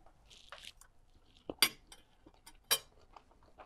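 A small knife slicing through a soft French omelette made with amaretto, giving a few faint, quiet taps and clinks against a plate, with soft scraping between them and no talk.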